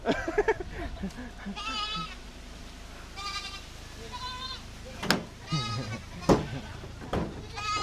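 Several goats bleat repeatedly in wavering, nasal calls, some close and some a little farther off, mixed with rustling and occasional talk among people handling newly bought goats.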